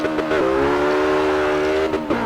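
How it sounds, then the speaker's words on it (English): A hypercar accelerating in the racing game Forza Motorsport 6: a loud, smooth, high engine wail holding a steady rising tone, with short shift blips at either end and no talk. "let's just listen to the sheer acceleration of this car"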